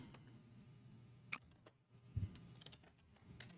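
Keys on a computer keyboard tap quietly in a loose, irregular run of soft clicks against a low background hum.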